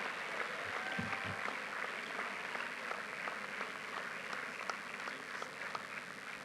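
Audience at a university convocation lecture applauding, a sustained broad patter of many hands at moderate distance with a faint low rumble underneath and no clear voices.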